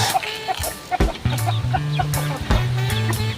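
Pet chickens behind a house cluck and chatter close by, several birds calling in irregular overlapping bursts with no one speaking.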